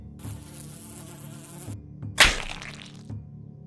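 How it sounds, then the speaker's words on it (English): A mosquito whines with a continuous high, thin buzz for under two seconds. After a brief gap, a sharp slap or crack follows, then faint rustling. "The mosquito."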